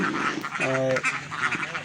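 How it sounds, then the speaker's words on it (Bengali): Several ducks on a duck farm of about a thousand birds quack loudly and close by in a brief, busy burst, with a faint voice in the background. "এক থেকে দেড় হাজারের মতো হাঁস রয়েছে"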